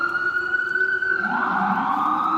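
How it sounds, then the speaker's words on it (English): Emergency vehicle siren wailing outside, a steady high tone that shifts pitch as it passes, fairly loud and alone with no talk over it. "Yeah, that's an ambulance."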